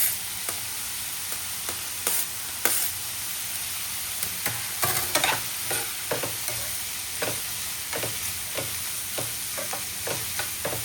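Onion and green chili frying in a pan make a steady, even sizzle with scattered clicks and scrapes of a spatula stirring, close by and continuing throughout.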